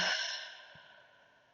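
A single deep exhale during a relaxation breathing exercise, a close, breathy rush of air that starts strong and slowly fades away on its own.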